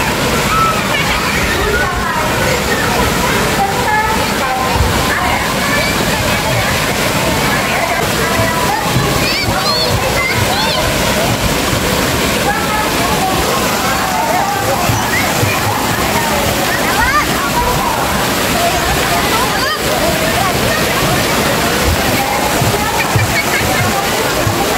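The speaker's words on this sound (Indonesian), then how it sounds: "Kalau misalnya sudah terisi penuh, wah itu seperti air terjun guys." Large tipping bucket at a Bandung water park filling and dumping, water roaring down like a waterfall with constant splashing and sloshing, loud and close, with voices of crowds mixed in.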